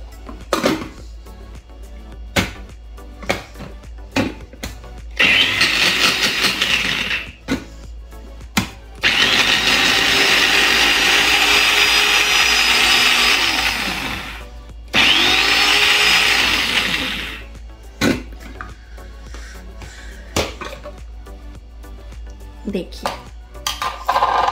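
An electric chopper cuts a large piece of ginger in two loud, steady whirring bursts of a few seconds each, with clatter and handling knocks of the bowl and lid before, between and after.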